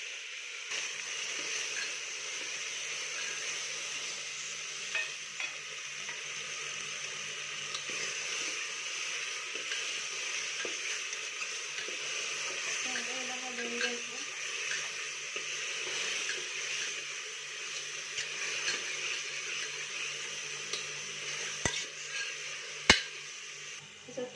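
Bay leaf and ground masala paste fry in oil with cumin for chole, giving a faint, steady sizzle over a long stretch. Scattered clicks and light spoon taps sound through it.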